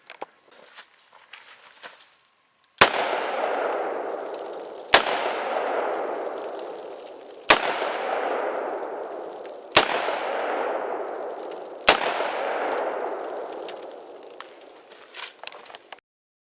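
Five loud, sharp shots from a Ruger LCR .357 Magnum revolver, mixing .357 and .38 +P rounds, fire outdoors at uneven gaps of about two seconds, each crack followed by a long echoing decay, with faint handling noises before and after.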